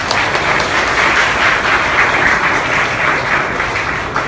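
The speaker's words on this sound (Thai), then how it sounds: "ขอเสียงปรบมือด้วยค่ะ" An audience at an academic lecture event applauds, with dense, steady clapping that fills the room at full volume for several seconds.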